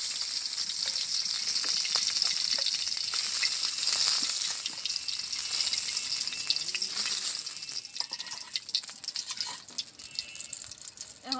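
Fish frying in a pan in a village kitchen, a steady bright sizzle that runs for several seconds before thinning into scattered crackles and clinks as the pieces are lifted out.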